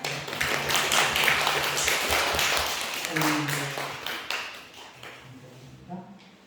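A congregation at a Sunday worship service claps in welcome, a loud, close burst of hand claps that thins out after a few seconds, with some speaking underneath.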